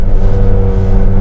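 A Mahindra XUV 700 AX7 petrol engine with manual gearbox revs hard toward about 5800 rpm, a loud, steady, close drone that holds a constant strained pitch with no speech over it.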